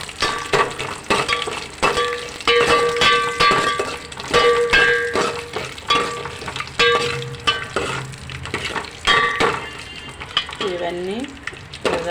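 Vermicelli (semiya) frying in ghee in a pan, with a sizzle under frequent scraping and clinking stirring strokes, close and fairly loud, and a voice talking over parts of it.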